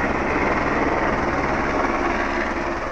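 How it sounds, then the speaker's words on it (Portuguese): A fire department helicopter attempting to land kicks up heavy dust at a fuel station in Jequitaí, northern Minas Gerais, a steady, loud, close rotor and engine roar that fills the whole stretch without a break. "O vídeo mostra o momento exato em que o helicóptero tentava pousar."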